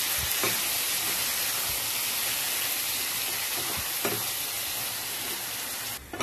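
Soybeans fry in a pan with a spice paste that sits on a base of fried onion, giving a steady, dense sizzle with occasional stirring knocks and no talking.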